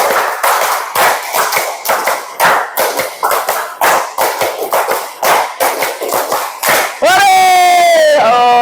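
A class of pupils claps in rhythm, following a teacher's count, with sharp group hand claps in quick bursts throughout, then a sustained tonal sound closes the passage.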